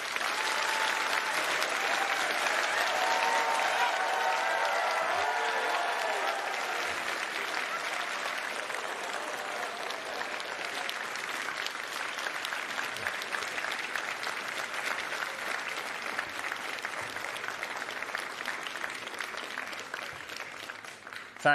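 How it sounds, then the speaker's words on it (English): A large graduation ceremony audience applauds continuously, a loud, dense wash of clapping sustained for over twenty seconds with a slight swell early on and steady intensity throughout. "Please give them an incredible round of applause."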